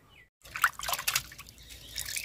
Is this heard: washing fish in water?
yes